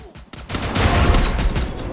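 Gunfire in a mobile battle royale shooter game, a loud close burst of rapid automatic shots that starts after a brief pause and keeps going to the end.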